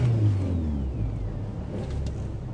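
A car engine revs up during a driving lesson, the car being driven with a clutch. The rumbling revs sit close and loud, then ease off into a steady, falling drone over about two and a half seconds.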